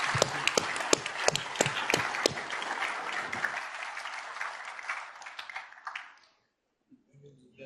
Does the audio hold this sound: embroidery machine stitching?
no